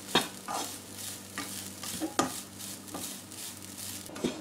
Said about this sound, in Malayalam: തേങ്ങയൊന്ന് വറുത്ത് ചെറിയ ഗോൾഡൻ കളറായി വന്നിട്ടുണ്ട്.